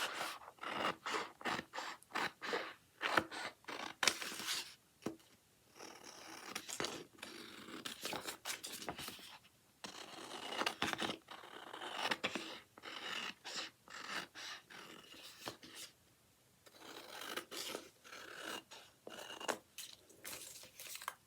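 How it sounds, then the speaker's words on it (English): Scissors cutting out an iron-on image, with a long run of close, crisp snips coming in quick irregular bursts, separated by short pauses. "I'm going to cut out my image to where I want to take all this part off"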